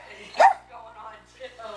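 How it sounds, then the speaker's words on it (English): A pet dog gives a single short bark or yip indoors, moderately close, with someone talking affectionately around it. "I think you're the cutest dog."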